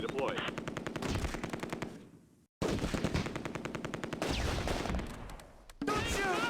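Gunfire in the wartime video game Close Combat A Bridge Too Far: rapid machine-gun bursts in dense repeating volleys, a brief silent gap, then more fire and scattered shots.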